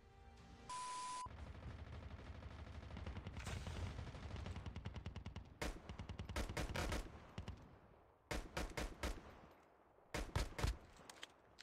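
Pistol gunshots in a video game, loud and close, firing first as a steady run of rapid shots and then as sharp separate bursts in clusters, with no talking.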